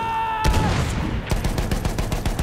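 Gunfire in the video game Battlefield 1: a heavy shot opens, then a rapid run of automatic fire rattles steadily close by until the end.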